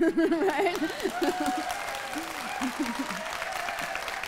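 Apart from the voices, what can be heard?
audience clapping at conference plenary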